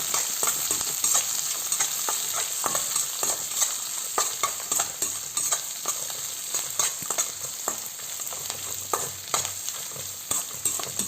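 Onions and finely chopped green chilies fry in a pan, giving a steady bright sizzle broken by repeated scraping stirs of a spatula, close and clear with no voices.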